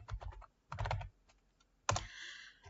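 Computer keyboard keys are pressed in short clusters of soft clicks up close, with a firmer keystroke near the end during PowerPoint slide editing.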